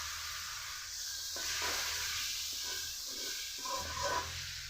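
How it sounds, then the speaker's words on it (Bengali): Spices sizzle and hiss steadily in oil while being sautéed for a Bengali jackfruit and prawn curry, a continuous close frying crackle with faint stirring and no talk. "2-3 মিনিটের মতো মশলা কষিয়ে নিয়েছি।"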